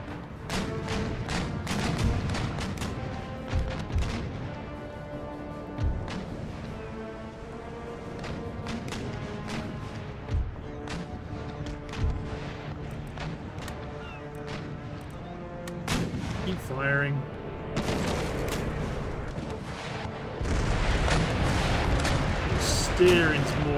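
Repeated booming naval cannon fire in Empire Total War, heavy broadside blasts thudding one after another at an uneven pace over a steady battle din, with someone talking throughout.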